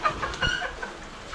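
Domestic chickens clucking in short, loose bursts close by, with scattered farmyard noise behind them and no clear talk.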